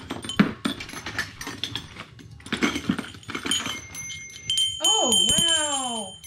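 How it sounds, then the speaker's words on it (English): An old antique bell rings out in a cluttered storage locker, its bright tone with sweeping, wavering overtones sounding for about a second and a half after earlier handling noises and clatter. "We do have an old bell here."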